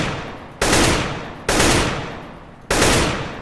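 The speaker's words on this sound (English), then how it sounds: "for this kind of range with the AK, you want to either fire 2 rounds" Three loud, sharp AK rifle shots in Counter-Strike: Global Offensive, spaced roughly a second apart, each a sudden crack with a long, slowly fading echo tail. No voices.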